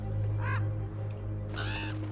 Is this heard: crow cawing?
yes